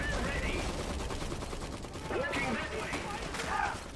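Machine gun squad fire in the mechanized war game Iron Harvest: dense, continuous bursts of automatic gunfire layered over a busy, noisy battlefield din, steady and loud throughout.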